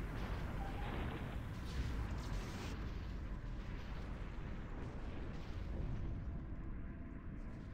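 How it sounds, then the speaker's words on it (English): Enemies exploding in the video game SPAZZ 2 make a continuous rumbling barrage of blasts and pops. The explosions are loud and dense and sit close, with no voices heard. "Really should not get so close to them when they're exploding."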